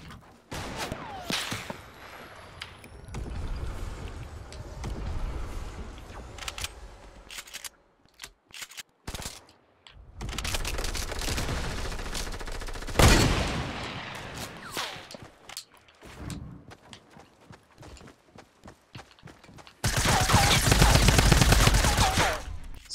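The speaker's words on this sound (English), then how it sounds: "So I took him out with the SMG." SMG gunfire in the Fortnite battle royale video game: rapid bursts of shots crackle close and loud in several long volleys, separated by quieter stretches of footsteps and game sounds.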